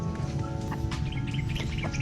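A chicken clucks in a short series of quick, moderately close calls over a low background murmur on an island shore.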